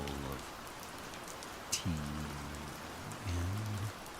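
Steady rain patters on cobblestones in a continuous wash of drops, while a voice talks briefly in the foreground.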